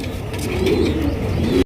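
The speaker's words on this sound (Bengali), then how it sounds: "এই যে নটটা কিন্তু ইতিমধ্যে ডাকা শুরু করছে" A Jhorna pigeon at a pigeon farm gives a low, soft cooing call, close and continuous for under two seconds, with no talk over it.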